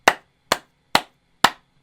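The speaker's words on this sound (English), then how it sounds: "Clap noises." Four sharp, evenly spaced claps ring out crisply in a quiet space, each one a single distinct smack.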